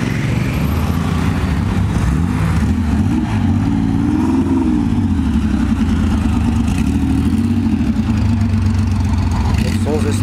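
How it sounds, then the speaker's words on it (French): A Porsche 911 ST idles after pulling into a car meet, its engine rumbling loudly nearby with slight revs, while people talk over it. "Là, la 911 ST qui vient d'arriver."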